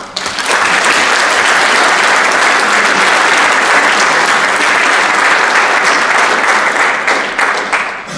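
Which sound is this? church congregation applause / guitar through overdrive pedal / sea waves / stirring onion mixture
church congregation applause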